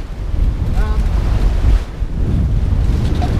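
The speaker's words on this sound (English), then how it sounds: "against the waves." A sailboat crossing the North Sea in winter near Røvær, sails reefed, punching into waves at six to seven knots; steady gusting wind buffets the microphone over a constant wash of sea and hull noise, with no talk.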